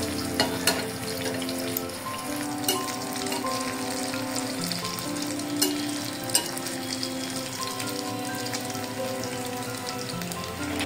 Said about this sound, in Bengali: আমাদের নাগেটগুলো কিন্তু ভাজা হয়ে গেছে, আমরা উঠায় নিব এক এক করে।